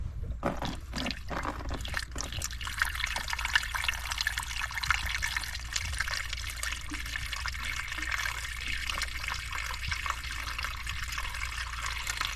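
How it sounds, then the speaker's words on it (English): Water trickles steadily into a hose on a cold November day in Newfoundland, a continuous close, even wash of running flow with no talk over it. "Filling that hose to some degree."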